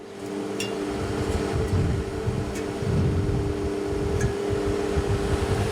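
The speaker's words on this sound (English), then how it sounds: "The fan's sucking in, not blowing out." The fan of an NSF-brand water cooler runs nearby with a steady, loud whirring hum and a low rumble, continuous throughout and with no talking.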